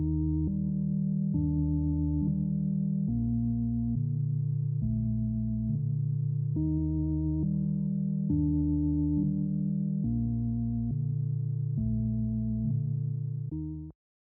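A reversed melody sample slowed with a halftime effect, deep and full-bodied, with warm sustained chords gliding through a repeating loop at a steady level before cutting off at the end.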